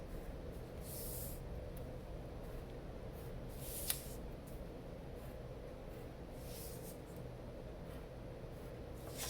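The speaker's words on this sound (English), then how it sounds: "maybe I'll draw a line inside these triangles" A pen scratches softly across paper, drawing lines inside triangles while working on a mandala. Light, continuous strokes run at close range in a quiet room, broken by a few brief louder scrapes.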